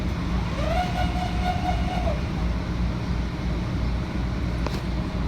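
Metro-North Harlem Line commuter train running from Melrose toward White Plains, a loud steady rumble and roar heard from onboard, with a brief tonal whine early on and a sharp click near the end.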